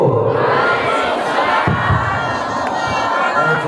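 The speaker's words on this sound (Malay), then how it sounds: "Luar biasa tepuk tangan yang berikan kepada guru kita bersama Buah Habibie" A mosque congregation at Masjid Al Mabrur in Lhokseumawe, Aceh, breaks into loud, continuous applause and cheering after a sermon, a dense crowd roar filling the room throughout.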